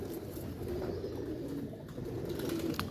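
Pigeons kept for competition flying, among them a netted-pattern hen, coo in low repeated throaty phrases throughout, with a faint chirp near the end and no one speaking.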